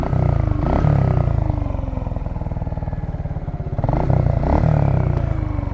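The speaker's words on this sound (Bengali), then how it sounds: "বেশি হাই আরপিএম দিচ্ছি না তার কারণ হচ্ছে নতুন রিং পিস্টন তো তো মোটামুটি সাউন্ডটা পরিবর্তন হয়েছে" An air-cooled Suzuki Gixxer motorcycle engine on new piston rings idles at low rpm with a steady, close, rattly beat, broken by two short blips of the throttle that rise and fall in pitch.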